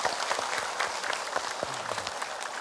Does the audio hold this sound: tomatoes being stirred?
no